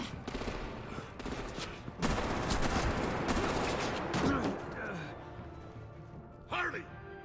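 Bursts of gunfire ring out in a Batman: The Enemy Within game scene, sharp volleys and rapid shots clustered in loud stretches, with voices talking between and over them.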